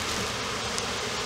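Honeybees buzz steadily around an open hive frame taken from beside a feeder during a package colony check, a dense continuous drone close by with no voices.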